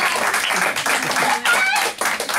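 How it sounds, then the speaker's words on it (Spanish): A radio studio audience breaks into applause during a Sant Josep FM program, a dense, steady clatter of hand clapping heard close and loud for a couple of seconds, with voices mixed in. "Un aplauso"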